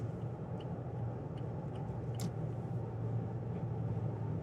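A steady low engine rumble and road noise fill a car cabin while driving, continuous and even throughout, with no talking.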